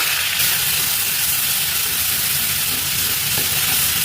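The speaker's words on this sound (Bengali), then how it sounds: "চালটা একটু ভেজে নেব" Washed Gobindobhog rice fries in a wok with spices such as cloves, cinnamon and cumin, producing a loud, steady sizzling hiss that stays constant from start to finish with no talking.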